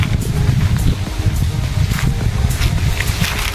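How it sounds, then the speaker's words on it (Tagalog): Strong wind buffets the microphone with a constant low rumble and gusty roar, with faint rustling in the background. "Lakas ng hangin"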